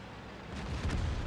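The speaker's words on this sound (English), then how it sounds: "Big shot there into the M48 pattern" A World of Tanks tank gun firing a shell into an M48 Patton, a short heavy boom with a rumbling low tail, close and loud.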